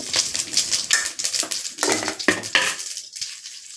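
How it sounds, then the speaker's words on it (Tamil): Mustard seeds splutter and pop in hot peanut oil in a kadai, a dense, close crackle of sharp sputters that thins out toward the end. "கடுகு போட்டேன். கடுகு பொரியுது."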